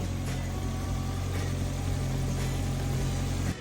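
A 1200-horsepower Honda K-series street car engine, fitted with a four-piston head, runs close by with a loud, steady low rumble and a few small revs before it drops off at the end.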